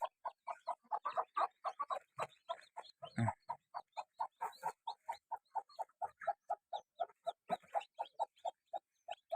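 A hen with chicks clucks in a steady, soft rhythm, repeated short calls close by with a few faint rustles in between.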